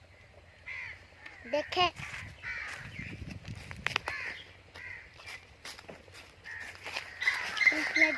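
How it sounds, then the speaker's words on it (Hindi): Crows caw repeatedly near their nests in a village, harsh calls rising and falling at moderate distance while a person talks over them and footsteps shuffle. "जिधर से ये कब्बों की आवाज आ रही है ना, उधर ही कब्बों के ना घोंसले हैं"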